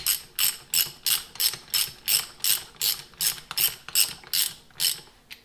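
Ratchet tightening locking nuts on a straight-cut gearset for a twin-turbo LS-powered Nova, clicking in a steady rhythm of about a dozen quick close strokes.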